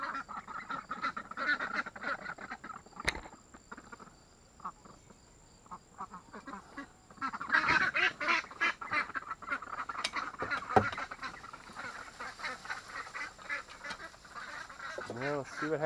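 Ducks quack and honk on a farm, with a few calls close by and others further off, mixed with insect buzz and some faint background noise.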